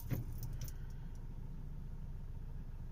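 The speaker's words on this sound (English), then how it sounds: "the engine sounds really smooth and noiseless outside" A 2019 Tata Harrier SUV's engine idles with a low, even rumble, steady and quiet throughout, with a faint jingle of keys at the start.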